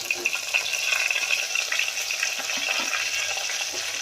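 Potatoes and stuffed brinjal stirred into a sizzling Gujarati curry, a continuous bright frying hiss with soft spoon scrapes, close and steady throughout.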